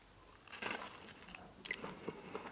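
Crumbed fried squid with tartare sauce bitten into, a few close, soft crunches and crisp crackles from the fried coating, quiet and intimate with no speech.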